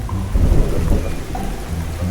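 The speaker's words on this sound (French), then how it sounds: "Pourquoi pleut-il maintenant?" Heavy rain pouring steadily with deep rumbling like thunder underneath, loud and continuous throughout, no voices.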